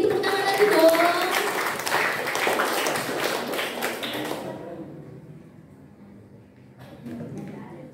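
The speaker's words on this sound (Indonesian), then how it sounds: "Tepuk tangan lagi dong." Audience applause at a talk show for a high school's anniversary celebration, a dense burst of clapping that fades out after about four seconds, leaving a quiet room with faint noise.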